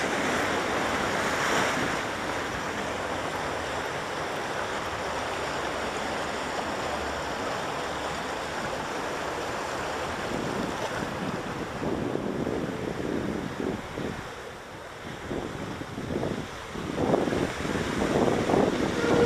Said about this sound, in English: these are rough. Some rough rapids.